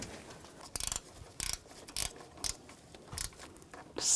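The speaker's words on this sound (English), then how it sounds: "With those in, now we can tighten these down." A ratchet wrench snugs down radiator bolts on a 2010-2014 Volkswagen GTI 2.0 L4, giving short bursts of clicking with pauses between, close and fairly loud.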